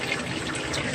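Water trickles and splashes steadily in an aquaponics setup, running from a pump through grow beds and a bell siphon back to the sump, a dense continuous wash that is close and fairly loud, with no talking.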